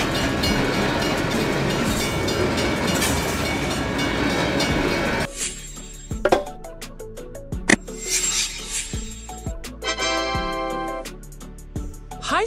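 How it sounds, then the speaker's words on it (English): A military train carrying tanks, troops and gear rolls past with a steady broadband rumble for several seconds, then gives way to sparser clanks, knocks and wheel clatter from the rail wagons. "Military train, the battle train."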